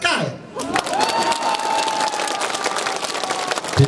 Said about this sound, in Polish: Tak kochają, że klaskają.